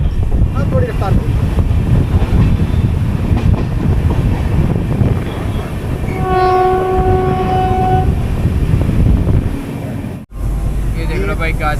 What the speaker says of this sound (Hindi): फाइनली जाके अब ट्रेन ने रफ्तार पकड़ी है